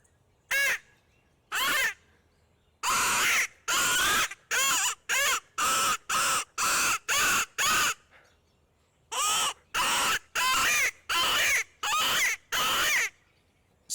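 A handheld squirrel barker call, a Mosses Creek Outdoors squirrel call, imitates a squirrel with a series of sharp, raspy barks. The barks come in two quick runs of close, loud, evenly spaced notes, separated by a short pause, with no voice.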